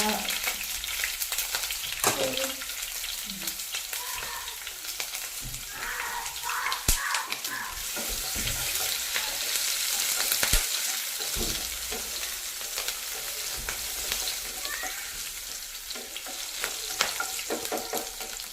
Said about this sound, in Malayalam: ഇഞ്ചിയും വെളുത്തുള്ളിയും ചതച്ചത് ഇട്ട് കൊടുക്കണം കേട്ടോ ആദ്യം തന്നെ എണ്ണ ചൂടായിട്ട്